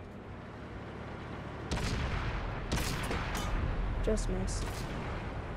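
Artillery fire booms in World of Tanks, a couple of heavy in-game shots breaking through a constant rumble of battle noise while someone talks over it.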